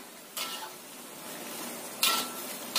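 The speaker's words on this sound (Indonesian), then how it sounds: "Kita tambahkan cabenya yang sudah kita buat tadi. Kita aduk sampai rata." Cooked beef with added chili paste is stirred in a pan, soft scraping sweeps and a couple of sharper utensil scrapes against the pan over a steady, gentle sizzle, no voices.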